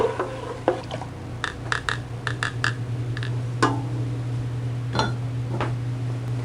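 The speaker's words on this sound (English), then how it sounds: "Now I'm just going to go ahead and stir this just a little bit to try and get that salt to dissolve a little bit." A utensil stirs salt into a RIT fabric dye bath, producing irregular light clinks and taps against the container over a steady low hum, close and moderately quiet.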